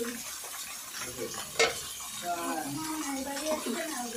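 Food fries in a pan in a home kitchen with a soft, continuous sizzle, broken by a single sharp utensil clink, while a person talks over it.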